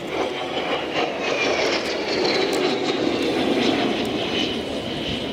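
An L-39 single-engine jet aircraft flying at an airshow, its loud, steady jet roar filling the air with a broad, continuous rushing tone that slowly shifts in pitch as it passes.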